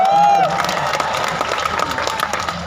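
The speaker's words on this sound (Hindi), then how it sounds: "देखो वो देखो ताली कितनी जबरदस्त" An audience at a kavi sammelan poetry recital in Ambedkar Nagar breaks into dense, sustained applause with crowd noise, while a voice briefly sounds over the start.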